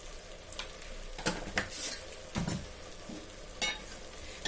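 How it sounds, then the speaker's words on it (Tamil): A spoon stirs mutton kulambu masala in a hot pan, scraping and clinking in irregular strokes over a steady soft sizzle of frying, with no talking. "இப்போ எல்லாத்தையும் நாம நல்லா கலந்து விட்டுலாம்."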